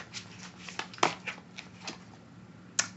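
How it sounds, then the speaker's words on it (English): Deck of tarot and oracle cards being shuffled by hand, a string of soft close riffles and flicks with a couple of sharper snaps, spread irregularly through the stretch. "As I shuffle the deck"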